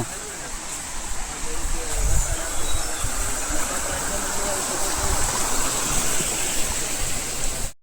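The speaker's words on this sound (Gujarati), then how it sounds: "ચડતા જ ઝરણું આવી ગયા" A mountain stream on Girnar near Junagadh, by the stone steps of the climb, rushing in a steady, close, loud wash of water that fades out at the very end.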